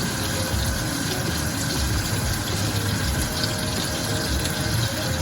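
Broth being poured into a pot of sinampalukang manok, chicken sour soup, a steady, loud, close gush of liquid, continuous for several seconds with no voices.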